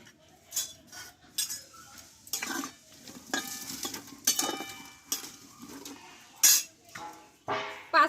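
Jackfruit pieces going into a pot with turmeric and salt, close clattering of a metal spoon and cookware in uneven bursts over a faint sizzle, with clinks and scrapes and no talk.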